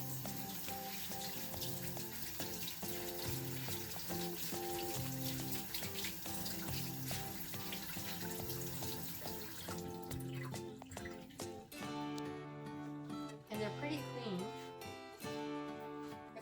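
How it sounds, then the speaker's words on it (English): Pumpkin seeds are rinsed under a kitchen tap, with water running steadily and splashing continuously for the whole stretch over a tonal background hum. "So we're going to go ahead and rinse off the pumpkin seeds."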